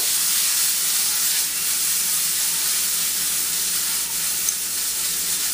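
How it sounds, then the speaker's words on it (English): Gnocchi sauteing in a hot pan give off a steady, close sizzle with constant bright hiss and faint crackle, no voices over it. "Let that saute for a second."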